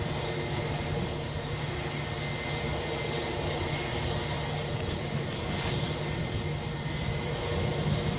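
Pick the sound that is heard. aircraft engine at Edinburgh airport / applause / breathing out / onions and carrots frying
aircraft engine at Edinburgh airport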